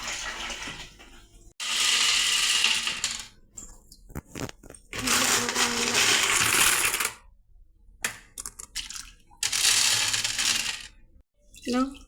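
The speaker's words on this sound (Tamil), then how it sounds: "இந்த மாதிரி கல் ஃபுல்லாக போட்டாச்சுங்க." Aquarium gravel stones poured into a fish tank already filled with water, heard as three long bursts of loud rattling, clattering pours separated by brief pauses and small scattered clinks.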